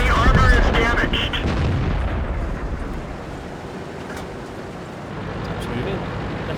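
Heavy tank gun blasts and rumbling battle noise from the World of Tanks game, a loud boom at the start fading into a sustained low roar with scattered impacts.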